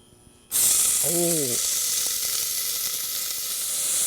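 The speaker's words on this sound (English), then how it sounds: "We'll cook it in olive oil, of course. You don't need much, maybe a couple of tablespoons. So this onion is going in the pan." Onion hits olive oil in a pan with a sudden loud sizzle that settles into a steady, close hiss of frying; a brief tonal squeak sounds early on.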